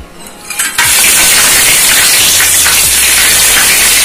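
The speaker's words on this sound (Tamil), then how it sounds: "ஆயில் ஹீட் ஆனதுக்கு அப்புறம் நம்ம எடுத்து வச்சிருக்க பிரிஞ்சி இலை, பட்டை, கிராம்பு இது எல்லாத்தையும் சேர்த்துக்கலாம்." Bay leaf, cinnamon and cloves hit hot oil with a sudden loud sizzle that then holds as a steady, close, bright hiss of frying spices.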